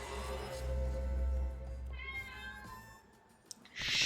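A cat in the video game Lost Judgment meows in a drawn-out, wavering call, then gives a second shorter meow, with game sounds and no talk.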